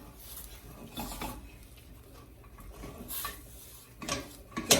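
A spoon stirs tulumba dough in a pot over low heat, with scraping and soft knocks against the pot sides in an irregular rhythm, close by and moderately quiet.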